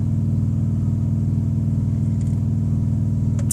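Truck engine running, a loud steady low rumble with a regular pulsing throb that holds even throughout, close by, with a couple of faint high clicks near the end and no talking.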